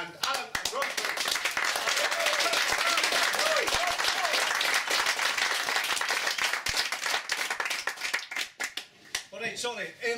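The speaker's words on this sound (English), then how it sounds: "would you please put your hands together and give Wendy and Allan a round of applause" An audience gives a sustained round of applause for two performers, dense and even at first, then breaking into scattered claps near the end, with voices in the background.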